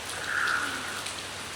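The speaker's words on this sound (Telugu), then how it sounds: "ఇప్పుడేమో ఫుల్ వర్షం" Heavy rain pours steadily in a constant broadband hiss of falling drops, close and fairly quiet, with no voices over it.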